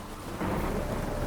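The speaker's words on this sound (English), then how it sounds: "Rain doesn't bother you, it seems." Rain and thunder in The Witcher 3: Wild Hunt, a brief low rumble of thunder swelling over steady rainfall, heard alone without voices.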